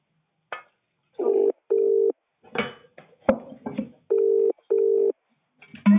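A telephone rings in repeated paired bursts with short gaps, clear and close, interrupted by brief clattering and handling noises.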